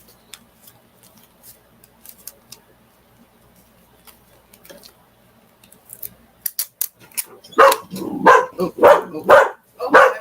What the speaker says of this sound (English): She's barking at her daughter coming to the door.